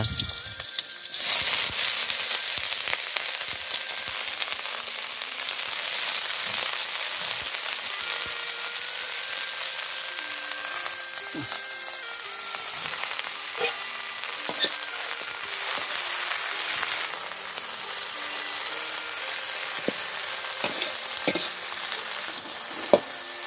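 Insects stir-fried in a little oil with salt, seasoning flour and leaves, Lao home-style cooking: a steady, close sizzle with frequent stirring scrapes and clicks that runs the whole time, no talk.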